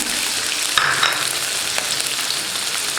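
Crushed ginger and garlic fry in hot oil with a steady, close sizzle, punctuated by a few brief stirring clinks and scrapes, while a quail pepper fry is being prepared.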